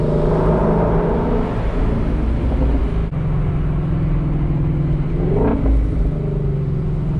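A Shelby GT350 Mustang engine drones at close range while cornering, a steady low rumble that rises briefly in a rev near the end.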